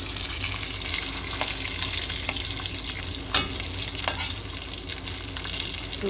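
Peanuts and dried red chilies, along with urad dal, fry in an oil pan with a constant close sizzle, broken by occasional scraping stirs.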